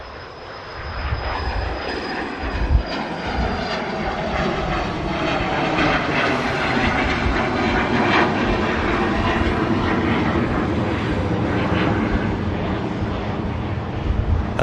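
A jet airliner moving on the ground at Manchester Airport gives a steady, broad engine roar with a faint high whine. The roar holds fairly loud throughout and swells slightly toward the middle.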